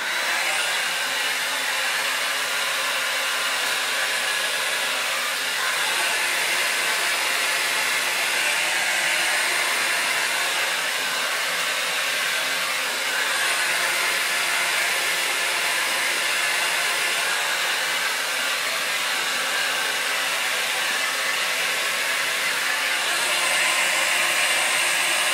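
Steady, loud hair dryer blowing for the whole stretch while hair is blow-dried in small sections for crown volume, its even airy roar broken only by slight shifts as it moves around the head.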